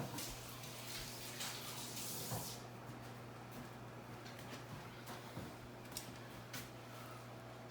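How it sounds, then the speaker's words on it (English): Water running at a kitchen sink while hands are washed, a steady broadband spray with faint clicks and a low hum underneath, louder in the first couple of seconds and then easing to a softer trickle. "I'm going to go wash my hands"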